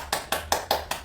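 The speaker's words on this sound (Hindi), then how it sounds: "ताली वादन" Five evenly spaced hand claps, about one every fifth of a second, sharp and close during a yoga clapping exercise, with no talk over them.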